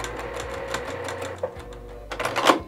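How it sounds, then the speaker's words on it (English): A sewing machine runs in short back-and-forth passes while back stitching a quilt backing, its needle tapping in a quick, even rhythm that pauses briefly and then picks up again, close and clear. "So when I get here, I'm just gonna do a little bit of back stitching"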